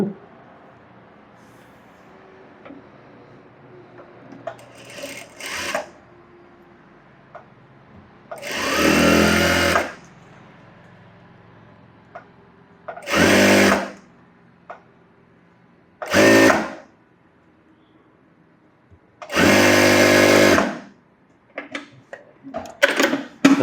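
A sewing machine stitches a blouse sleeve in loud, separate bursts of a few seconds each, with quiet pauses between runs.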